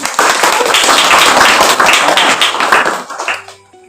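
An audience at a village workshop presentation on local food potential breaks into brisk, close clapping that holds steady for about three seconds, then fades away.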